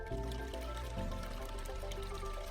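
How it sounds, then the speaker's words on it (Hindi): Water poured into a drum, a continuous steady splashing and filling sound with a slight rise in pitch, fairly faint and heard alone. "बलराम, अब एक बार फिर से इसमें पानी।"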